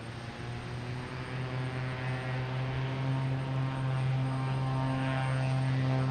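A jet airliner at Boston Logan Airport, a steady droning engine roar with strong humming tones that slowly grows louder over six seconds, heard outdoors at a distance.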